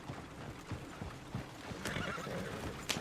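A horse whinnies over a soft clip-clop of hooves in the video game Red Dead Redemption 2, moderately close against a faint outdoor background.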